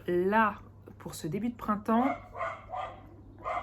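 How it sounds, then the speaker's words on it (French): A neighbour's dog barks faintly in the background in early spring while someone talks steadily over it, the barking mostly buried beneath her voice. "désolée pour le chien du voisin"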